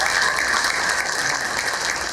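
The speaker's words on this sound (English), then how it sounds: "Let's all give them a round of applause." Steady, sustained applause from a large audience filling a conference room at a business summit, a continuous dense clatter of clapping hands with no pauses.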